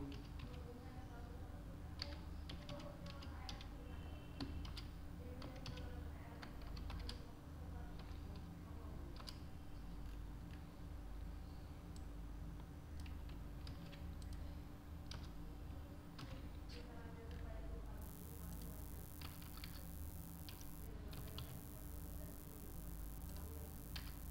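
Computer keyboard keys tapped in irregular bursts while entering Java code, soft repeated clicks over a steady low hum, with a quiet voice speaking faintly at times.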